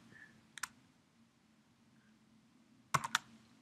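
Computer keyboard keys being typed in a quiet room, with a couple of short separate click bursts followed by a quick cluster of sharper keystrokes, all close and fairly faint.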